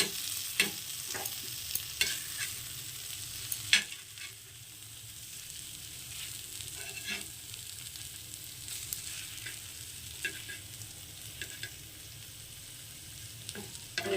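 Steady sizzling of eggs frying in masala in a pan, with a few scraping stirs and soft clinks, close by and without talk.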